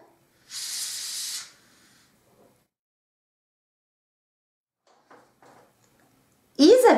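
A hand pump inflates a 5-inch latex balloon in one steady airy hiss lasting about a second, close and clear, followed by quiet with a few faint rustles and a short voice at the end.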